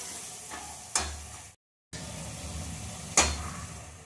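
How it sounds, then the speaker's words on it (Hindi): Tomatoes are stirred into a frying onion masala for dal fry in a pan, a soft low sizzle with scraping strokes and two sharper spoon knocks. A brief gap of silence splits the sound, and there is no talk. "अब इसमें हम टमाटर डालेंगे, अच्छे से मिक्स करेंगे"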